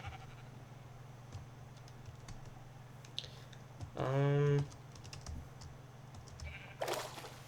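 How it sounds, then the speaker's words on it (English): A sheep bleats in Minecraft, a single wavering call near the middle of the clip, set against steady game background noise and light keyboard typing. "But wow, lots of sheep."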